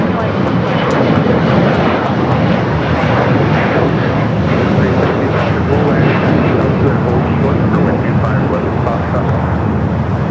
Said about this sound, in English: American Flight 26, the flight coming from Tokyo, Haneda 787. 9 Dreamliner, next arrival on 24 right